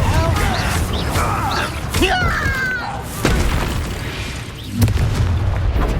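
Confringo spell explosions in the Hogwarts Legacy video game: a couple of heavy booming blasts burst out of a dense, busy mix of combat effects and game noise.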